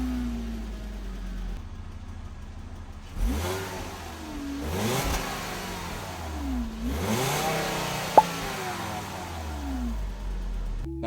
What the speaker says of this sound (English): it's got a dual tip exhaust that sounds incredibly